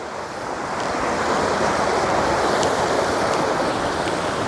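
Fast river water rushes over rocks in the hills of Darjeeling, a steady, loud, broadband roar that fills the whole stretch without pause or voices.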